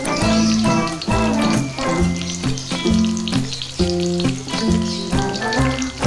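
Onions stir-fried in a pan with white spice paste for Indonesian nasi rames, a loud, steady, close sizzle running continuously throughout with no talking.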